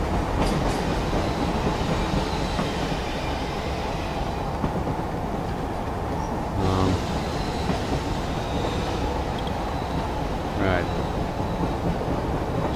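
A train rolls on rails in the Killzone 2 video game, a steady loud rumble with clickety-clack and brief metallic squeals, mixed with game ambience.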